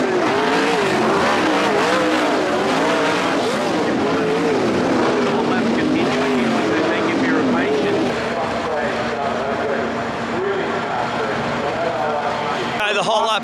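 Sprint cars at the Australian Sprint Car Championship roar around a dirt track during hot laps, a continuous loud engine drone with rising and falling pitch and passing cars, steady throughout with voices audible underneath.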